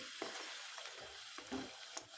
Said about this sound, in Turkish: Tüm pişilerimi bu şekil kızartacağım.